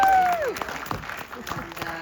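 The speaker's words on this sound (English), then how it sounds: "My husband Ed is here. Let's give him a round of applause." Brief applause from an audience at a Christmas Vacation Q&A, light scattered clapping mixed with voices after a tone fades.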